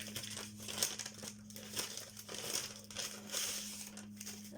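Packaging from a well-wrapped parcel order crinkles and rustles as it is opened, close-up soft crumpling in repeated bursts for several seconds, no talking.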